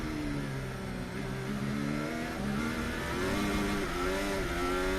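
Formula 1 cars roar away together at a race start, several high-revving engines overlapping in a loud, continuous wall of sound with rising and shifting pitch.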